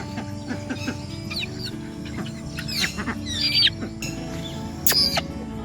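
Japanese bantam chickens cluck and squawk close by on a poultry farm, with short irregular calls and a few sharper cries over low background noise.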